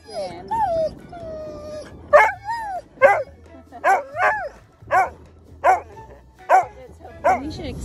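A Labrador that dislikes swimming barks and whimpers near the water, with high whines followed by a series of sharp, evenly spaced barks, loud and close, while people talk in between.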